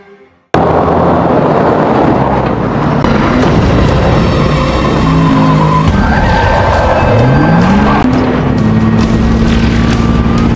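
A car skids and roars loudly in a chaotic action scene, with sudden engine bursts, tire squeals and crashing impacts, close and intense throughout.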